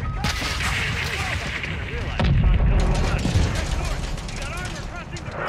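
Incoming missile explosions and heavy gunfire in Call of Duty: Modern Warfare II, a dense, loud battle din with booming blasts under overlapping radio chatter and shouted voices.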